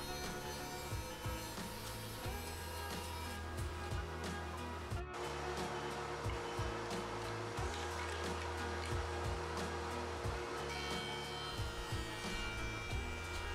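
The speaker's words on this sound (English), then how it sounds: "I like to rip my boards on the bandsaw when they're in rough state" A bandsaw rips rough, uneven lumber boards, producing a steady, moderately loud motor whir with a grinding cut texture and a few brief changes in tone as the wood feeds through; no talking.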